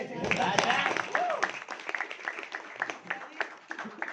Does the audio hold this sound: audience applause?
yes